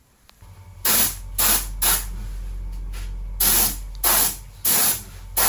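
A spray gun lays clear coat over the underside of a car body panel on a Toyota 86, delivering six loud, close hissing bursts of about half a second each at uneven intervals, with a faint steady background hum between them.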